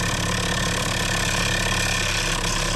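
A Harbor Freight drill bit sharpener running and grinding a bit, a steady, loud motor drone with a humming buzz that carries on unbroken, with no one speaking.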